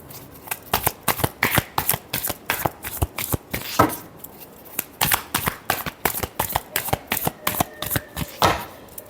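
Tarot cards are shuffled by hand in a quick, steady series of crisp riffling bursts, close and clear, repeating about twice per second throughout with no talking.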